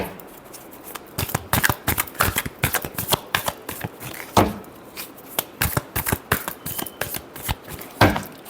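Tarot cards are shuffled by hand in a quick run of crisp, close riffling snaps and taps, irregular but continuous for several seconds, with no talking.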